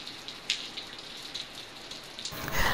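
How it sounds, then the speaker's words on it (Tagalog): Raindrops falling outdoors at a church courtyard with tiles, a soft steady patter that stays faint throughout and grows a little louder near the end. "Nadidinig niyo yung patak ng ulan"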